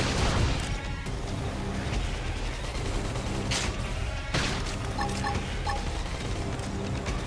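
Dense, continuous battle noise from the Xenoblade Chronicles X video game, packed with loud repeated blasts and booms from shotgun fire and a flame grenade, with sharp bursts standing out around the middle and near the end.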